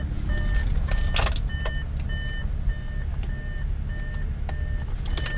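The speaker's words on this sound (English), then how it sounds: "I need to open my door just to get in there, so excuse the beeping." A car's door-open chime beeps in a steady, repeating pattern over a low idling engine hum, with a few sharp clicks and knocks mixed in.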